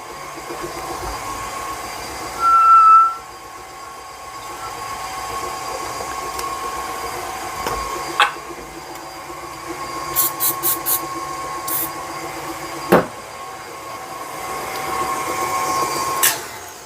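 A steady mechanical whirring drone of an electric mixer creaming molasses cookie dough runs throughout, with a few faint clicks and taps along the way.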